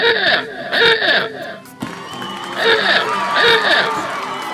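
A canned cheering-crowd effect played from a sound board during a live online quiz: bursts of shouting and whooping voices rise and fall in repeated swells, fairly loud and close.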